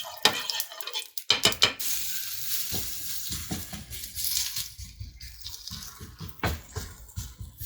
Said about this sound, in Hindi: तवा मैंने अच्छी तरीके से गरम कर लिया है। अब इसमें मैं थोड़ा सा असली घी डाल दूँगी।